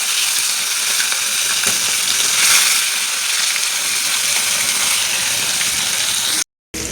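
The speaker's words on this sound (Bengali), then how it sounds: "কড়া করে ভেজে নিচ্ছি। আর এক পিঠ ভেজে নেব।" Chitol fish pieces frying hard in hot oil, a steady loud sizzle that holds continuously before cutting out briefly near the end.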